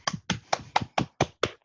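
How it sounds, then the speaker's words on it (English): A single pair of hands claps eight times in a steady, evenly spaced rhythm, each clap sharp and close, with no voices. "I think a round of applause for Michael."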